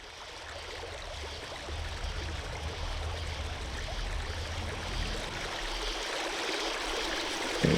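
Water trickles and splashes steadily nearby as someone washes up with medicine water, a soft continuous running sound that grows slightly louder toward the end.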